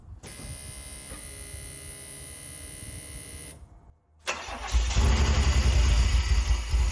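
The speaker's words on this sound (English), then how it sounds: "I'll fire up the car now and get it fully warmed up." A DeLorean with Bosch K-Jetronic fuel injection: a steady high electric whine runs, cuts out briefly, then the engine cranks and catches, settling into a loud, rough, rumbling idle close by.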